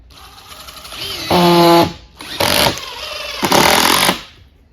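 A Metabo HPT power driver with a Hercules Phillips bit drives a screw in three loud, close bursts, each a buzzing, rattling whir lasting about half a second to a second, with a low hum between them.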